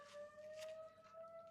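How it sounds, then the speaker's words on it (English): A steady wailing fire department siren holds one long tone, distant and faint, sounding continuously across the whole stretch. "you might hear a siren in the background"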